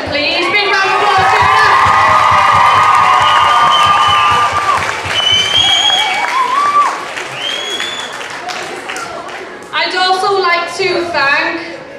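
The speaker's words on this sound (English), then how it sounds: "And a big round of applause to Mrs. Booth and Mr. Robinson, please. Big round of applause." School audience at a Red Nose Day performance bursting into loud applause and cheering, with children whooping and shouting over the clapping, which fades midway and then flares up again with fresh cheers near the end.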